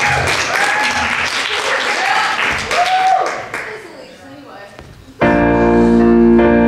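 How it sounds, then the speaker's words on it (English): An audience at a singing competition claps and cheers loudly for several seconds for the contestants, the applause fading before music abruptly starts. "how about we give another round of applause for all the contestants tonight?"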